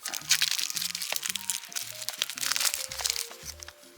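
Plastic shrink-wrap seal crinkling and crackling as it is peeled off a sealed package holding movies in an obscure video format, a steady close rustle with sharp crunches throughout.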